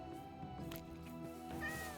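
A cat meows in the Minecraft Aged modpack game, a short high cry toward the end over a layered bed of game music and soft ambient tones.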